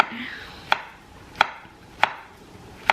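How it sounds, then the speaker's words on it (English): A knife chops fruit on a cutting board in four sharp, evenly spaced knocks about two-thirds of a second apart, close and distinct against a quiet kitchen background, with no voices. "So I'm just gonna cut up some fruit."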